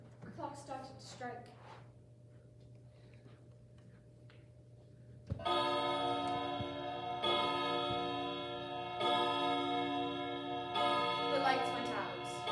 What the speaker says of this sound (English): Just then, the clock started to strike.